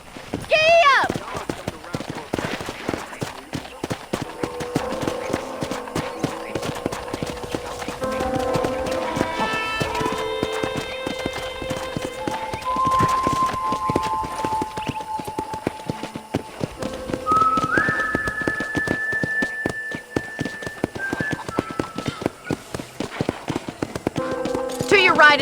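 Horse hooves clip-clop steadily through a Red Dead Redemption ride around a frontier property, a continuous rhythmic trot under game music and spoken dialogue.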